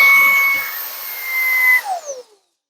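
A Ryobi 18V jobsite hand vacuum runs with a loud, close, high-pitched motor whine that holds steady, then winds down and cuts off near the end, no voices.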